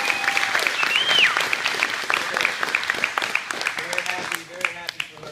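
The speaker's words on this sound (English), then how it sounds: "So big round of applause." A crowd at a Brazilian jiu-jitsu academy claps in a sustained burst of applause for a purple belt promotion, with a whistle and cheering on top.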